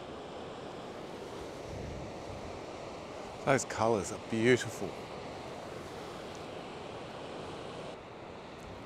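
Ocean waves breaking along a kelp-lined coastline of clear blue water, a steady wind-blown wash of surf that runs throughout, with someone briefly talking midway.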